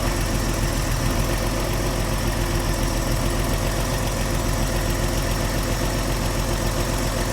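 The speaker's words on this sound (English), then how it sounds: "That really is sounding like a lovely engine now." A Vauxhall Royale car engine idles steadily and smoothly at close range, a constant even rumble with a faint rhythmic ticking, no voices.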